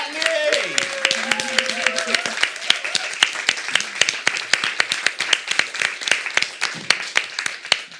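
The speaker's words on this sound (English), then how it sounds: "Big clap for Natalie!" A small audience claps in sharp, scattered beats at the close of a talk on food corporations and reparations, with a voice speaking over the opening moments before the clapping carries on alone.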